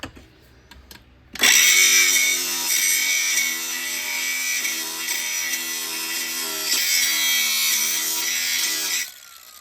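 A power tool grinds loudly and steadily for about eight seconds while a 900 RZR differential is installed on a Highlifter 850 UTV, ending abruptly. No one speaks.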